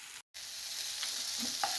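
Ingredients stirred and dry-roasted in a pan for a puttu-flour snack, a steady close sizzle with soft scraping of the spoon, after a brief gap at the start.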